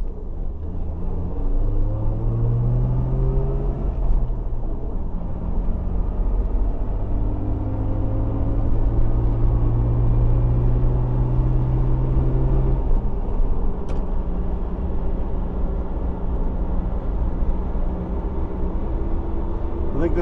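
Old Jeep with a failing transmission driving along a potholed road, a steady close engine and road rumble with rising and falling gear whine, occasional knocks, and a voice talking briefly.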